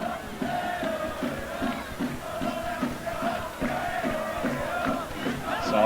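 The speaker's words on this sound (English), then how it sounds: "As the crowd begins to get into it, playing a Sao Paulo chant" A stadium crowd at the 1995 Dallas Cup Super Group Final sings a Sao Paulo chant, a massed, steady rhythmic vocal roar with repeated pulsing phrases, continuous and moderately loud throughout.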